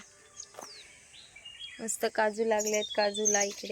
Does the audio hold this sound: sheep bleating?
no